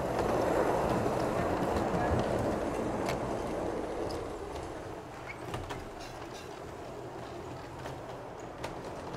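A miniature model tram powered by an overhead catenary rumbles along its rails with a steady low clatter that slowly fades, a few faint clicks and distant bird chirps in the background.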